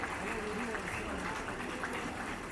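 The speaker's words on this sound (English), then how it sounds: "A big round of applause and kudos." A moot court audience applauds the runner-up team in a dense, continuous clapping roar that fills the room, with voices mixed in underneath.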